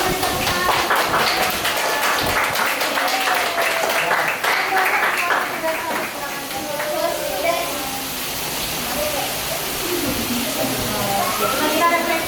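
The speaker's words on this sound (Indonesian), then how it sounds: "Sudah tolong beri tepuk tangan." Classroom applause from students at the close of a Japanese language lesson, a steady wash of clapping filling the room with children's voices and chatter mixed in throughout.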